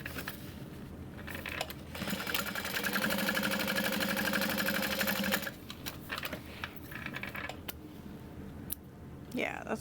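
A sewing machine runs a steady seam along the side of a backpack for a few seconds, close by, with lighter handling noise before and after.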